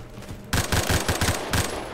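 Rapid automatic gunfire in Roblox Phantom Forces, firing downrange at targets: a quiet lead-in, then a loud, steady string of closely spaced shots for about a second and a half.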